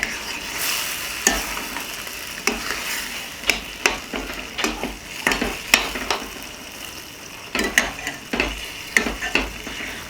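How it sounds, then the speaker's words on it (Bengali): Matar malai mushroom cooking in a pan, with water added to the sizzling mix and stirred, giving hissing bursts and repeated scraping and clinks from the spoon against the pan. "এই পর্যায়ে এসে আমি অ্যাড করব বাকি জলটা।"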